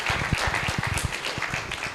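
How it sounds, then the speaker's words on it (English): Scattered audience clapping at a public service conference as panelists take their seats, a steady patter of individual claps at moderate distance. "Let's give them a warm round of applause as they take their seats."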